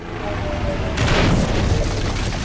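A rocket launcher blast in the LEGO Ninjago Shadow of Ronin video game: a loud booming explosion erupts partway through and rumbles on over a steady background roar, with no speech.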